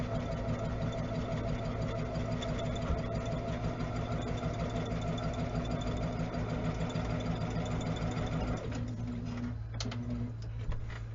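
A home sewing machine stitches quilt pieces together with a steady, close motor hum that runs without a break, then slows and stops near the end with a brief restart.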